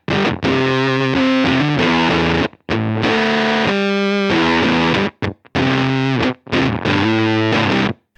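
An electric guitar runs through an Earthquaker Barrows distortion pedal fitted with the Barrows Marrow mod, playing thick, fuzzy chords and riffs in loud bursts separated by short gaps.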